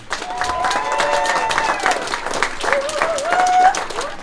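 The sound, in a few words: audience applause for the team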